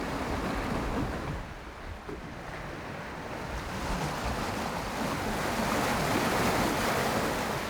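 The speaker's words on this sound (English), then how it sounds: "the ocean is still around us, the air thick with salt" Ocean waves wash steadily around a sailboat far out at sea, a loud, continuous rush of surf and wind buffeting the microphone, with no voices.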